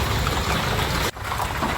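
Steady heavy rain pouring down, a dense hiss with a brief dip partway through before the downpour resumes.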